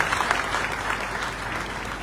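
Steady, fairly faint audience applause at a network marketing seminar, a dense wash of many hands clapping evenly throughout with no speech over it.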